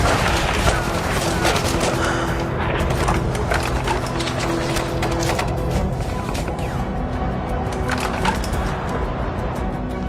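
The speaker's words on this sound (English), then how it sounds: "The enemy kept firing at us." A war reenactment of Operation Vijay carries dense, sustained gunfire, with crackling bursts and rattling volleys filling the scene continuously under a narrating voice.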